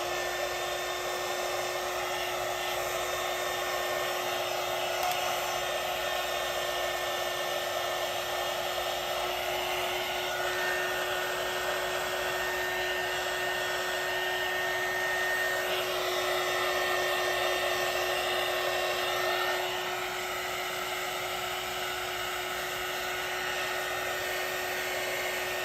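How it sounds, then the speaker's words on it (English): Heat gun blowing steadily over paper during a pigment crafting session, a continuous airy whir with a high tonal whine that holds for about twenty-five seconds, slightly shifting pitch midway, with no talking. "Again with the heat gun."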